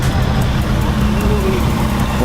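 A Ferrari F12 sports car at the Zoute Grand Prix 2016 event gives a steady, loud engine roar close by for the whole short stretch, mixed with crowd and street noise.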